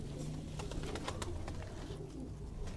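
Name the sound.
keede wala pigeons cooing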